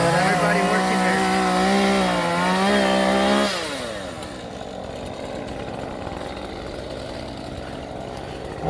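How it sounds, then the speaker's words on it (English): A chainsaw roars loud and close while cutting in a garden under construction, its pitch wavering under load, then drops to a rougher, lower running tone for the rest of the stretch. "Main cutter in the background with her chainsaw."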